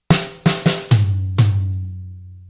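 Drum kit hits from a rock ending solo, struck with alternating right and left hands: five sharp, loud strikes in an uneven rhythm, the later ones carrying a deep ringing low tom boom that fades out at the end.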